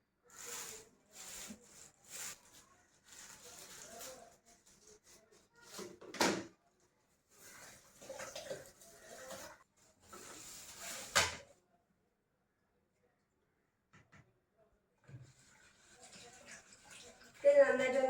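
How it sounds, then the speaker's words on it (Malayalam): Sodium sulfate is stirred into homemade liquid detergent in a container, making scraping, rubbing strokes in irregular bursts, close by, with a voice speaking between and over them. "ഇനി നമുക്ക് സോഡിയം സൾഫേറ്റ് മിക്സ് ചെയ്യാം"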